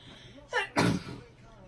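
A quick sneeze, a sharp breathy intake followed by a louder burst, close by and heard on its own with only faint background.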